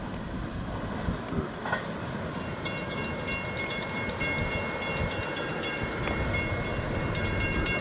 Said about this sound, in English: driving another big, long, beautiful train to South Florida